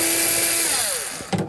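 A power tool whirs as it undoes a nut on the heating element of a front load washing machine, a loud steady whine that drops in pitch as it spins down, ending with a brief clunk.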